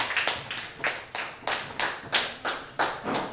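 A small audience at a class debate claps in a steady, slightly uneven rhythm, with distinct individual hand claps repeating roughly twice per second, close and fairly quiet, with no talking.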